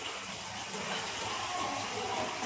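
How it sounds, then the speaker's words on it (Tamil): Water pouring steadily into a cooking pot while making rasam, a continuous broadband gush of splashing that runs unbroken throughout at moderate loudness. "தண்ணி ஊற்ற போறோம், இன்னும் நிறைய தண்ணி ஊற்ற போறோம்."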